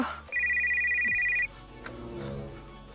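A phone ringtone sounds as a steady, loud electronic tone for about a second, with speech nearby before and after it.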